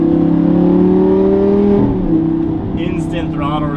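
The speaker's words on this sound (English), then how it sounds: "instant throttle response from that V10, and it sounds incredible." A Lamborghini's V10 engine holds a loud, steady harmonic drone from inside the car, then drops in pitch as it eases off, while a voice starts talking over the engine noise near the end.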